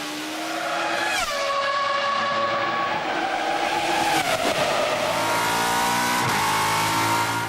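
A car engine revs and accelerates loudly through rising and falling pitch sweeps, with several gear-like shifts over about seven seconds, heard close and continuous.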